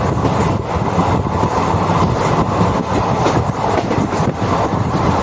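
Loud, steady rumble of a train running over a 569-metre river bridge between Tiruchirappalli Town and Srirangam stations, with rhythmic clattering of wheels on track throughout.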